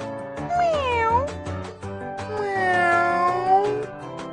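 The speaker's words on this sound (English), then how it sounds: "cat meow." A cat meows in a children's alphabet game, giving several clear, close, drawn-out meows with rising and falling pitch over a soft musical backing.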